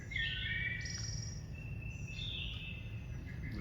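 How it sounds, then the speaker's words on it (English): A yellow-throated vireo sings short, slurred phrases separated by pauses, moderately distant, over a constant hum of insects. "Maybe a yellow-throated vireo."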